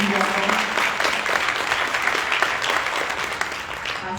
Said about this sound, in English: You want to give yourselves a round of applause just for being here.